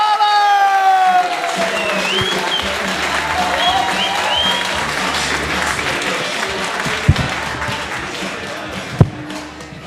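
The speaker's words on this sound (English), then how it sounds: "You're going to start the applause, if that's cool, Lisa." Audience applause builds and holds steady for a comedian named Bob Barlow as he's welcomed to the stage, with a few cheers and a couple of sharp thumps near the end.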